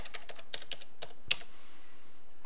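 A library card number is typed on a keyboard, a quick run of crisp close keystrokes with one sharper press near the middle, then quiet.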